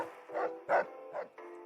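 Dogmeat, the dog companion in Fallout 3, gives three short barking yips close by in a quick uneven sequence, with a low game ambience hum continuing underneath.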